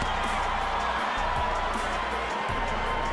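Arena crowd at the Evander Holyfield vs Chris Byrd boxing fight, a dense steady roar of cheering and whooping that swells as the fighters come to the ring, loud and continuous throughout.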